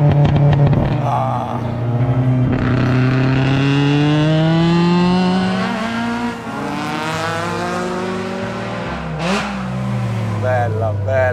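Fiat 127 rebuilt toward a Group 2 racing car, its engine revving hard and loud close by, pitch climbing and falling through repeated throttle blips with a raspy exhaust note.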